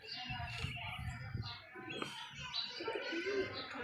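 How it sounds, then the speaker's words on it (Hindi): A flying pigeon coos softly nearby, its low throaty calls mixed with light chirps from other birds, while someone talks over them. "ये पेंडू सा कबूतर है"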